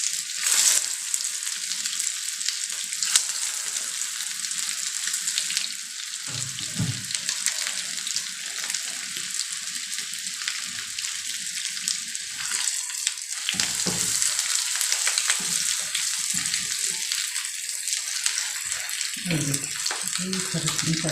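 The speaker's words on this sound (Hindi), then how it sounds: "ये अब मैं बगैर अंडे के आपको फ्राई करके दिखा रही हूँ।" Beef shami kebabs made without egg fry in a pan with a loud, steady hiss and crackle of hot oil that persists throughout, with brief duller stirring noises.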